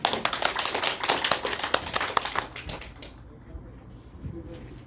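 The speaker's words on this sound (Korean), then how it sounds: "박수로 모시겠습니다." A church congregation greets its pastor at a Sunday service with a burst of lively, close applause, dense sharp claps for about three seconds before thinning to a few scattered claps and room murmur.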